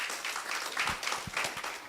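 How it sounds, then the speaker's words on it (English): A cybersecurity conference audience applauds as a researcher heads up to the stage, a dense, even wash of clapping throughout the short stretch with a few sharper individual claps standing out. "Let's give him a round of applause as he ascends the stage."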